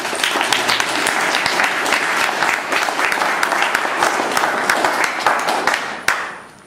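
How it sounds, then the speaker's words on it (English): A Toastmasters club audience gives a sustained round of applause, dense steady clapping from many hands that holds for several seconds before tapering off at the end. "A big round of applause for."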